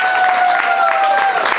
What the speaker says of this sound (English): Let's give our veterans a great round of applause.